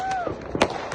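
Firecrackers bursting at a New Year celebration in a village in Poland, a few sharp pops scattered through a short stretch amid distant crackle and background voices.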